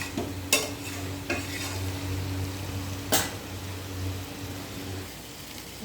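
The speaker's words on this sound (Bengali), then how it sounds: "এরকম করে নাড়াচাড়া করতে করতে জলটা শুকিয়ে যাবে।" Taro leaves (kochur shak) stirred in a pan as the water cooks off, giving a soft sizzle with a few distinct spatula knocks and scrapes at intervals, close and fairly quiet with a low hum underneath and no talking.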